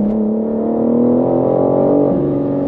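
A BMW M4 Competition accelerates hard: a loud, close engine note rises steadily in pitch through the run, dips briefly as the gear changes near the end, then climbs again.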